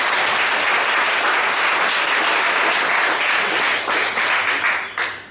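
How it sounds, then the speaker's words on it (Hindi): A church congregation bursts into sustained applause for the Lord during a Hindi sermon, dense clapping that holds steady for several seconds before thinning out at the end. "क्यों ना प्रभु के लिए तालियां बजाएं।"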